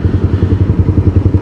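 2008 Honda CBR 150 sport motorcycle, Thai-built, engine running close by with a loud, steady pulsing throb and light mechanical clatter, no talking.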